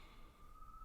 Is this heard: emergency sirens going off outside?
yes